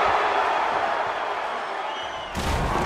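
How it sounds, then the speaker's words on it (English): Crowd roaring and cheering in the WWE 2K16 wrestling video game during a Stone Cold Steve Austin showcase match after a hard clothesline, a dense continuous arena roar that swells again with a sudden burst near the end. "This crowd going crazy for Stone Cold Steve Austin"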